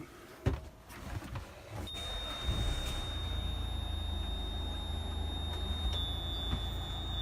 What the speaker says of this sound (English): Those horrible beep noise